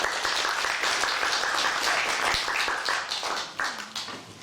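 Audience applause at a Korean language speech contest for foreign workers, welcoming a contestant from Vietnam; brisk, close clapping from a crowd that thins and turns patchy over the last second.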